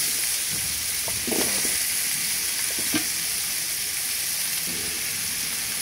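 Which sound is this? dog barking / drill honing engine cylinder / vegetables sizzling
vegetables sizzling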